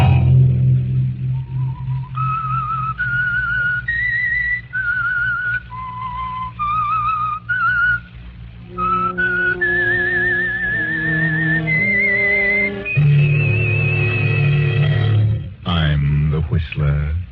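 A lone whistler carries a slow, eerie melody as the opening theme of the Whistler radio drama from 1943, joined partway by sustained orchestral tones on an old, rumbling broadcast recording.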